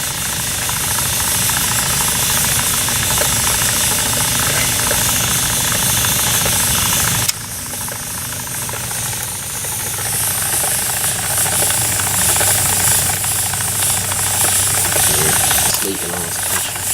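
A steam engine runs with a loud, steady hiss and chugging mechanical knock that drops briefly partway through, then continues strong before easing near the end as it is shut down; a voice is present at times.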